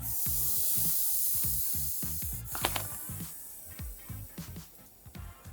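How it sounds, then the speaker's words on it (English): A chunky croissant-shaped squishy toy is squeezed repeatedly up close, giving soft airy hissing and crackly, crinkling squish sounds in quiet rhythmic presses. "That is a squishy ASMR if ever I heard one."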